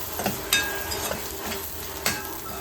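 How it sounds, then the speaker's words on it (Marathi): Spices for chicken kheema being sautéed and stirred in a pan, a steady soft sizzle broken by a few sharp scrapes and taps of the spoon, close up with no voices. "हे पण मसाले आपल्याला 1 मिनटं परतून घ्यायचे आहेत।"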